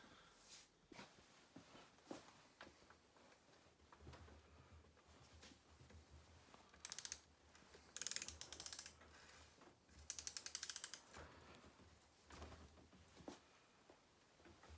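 A ratchet wrench clicks while the engine bolts of a Citroën 2CV are given a first tightening, with irregular bursts of quiet pawl clicking among soft handling noises, plus a few sharper, louder ratcheting runs midway.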